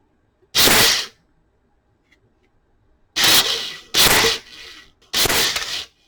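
A Ryobi P320 Air Strike cordless nailer fires four times after reassembly, each a sharp, loud, snapping bang with a short mechanical tail, the first alone and then three in quicker succession.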